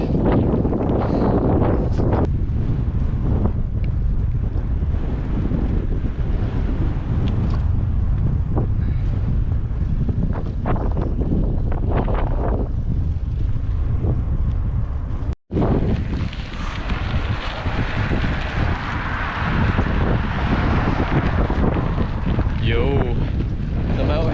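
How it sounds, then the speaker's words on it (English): Strong headwind buffets a bikepacking rider's microphone on a ride in New Mexico, a loud continuous rumbling roar with gusty swells, briefly cutting out once before resuming just as heavily. "Seems like I'm gonna have a headwind, which is gonna kind of suck."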